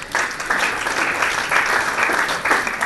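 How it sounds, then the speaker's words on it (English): A seminar bootcamp audience applauds, with a dense burst of clapping that swells in waves for about three seconds, loud and close, with a voice faintly underneath. "Give that a round of applause."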